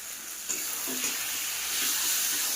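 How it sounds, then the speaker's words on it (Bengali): Spice masala with turmeric and coriander powder fries in a pan, giving a steady, close sizzle with occasional soft stirring scrapes. "চলো এটাকে একটু ভালো করে ভাজা ভাজা করে আবার আসছি।"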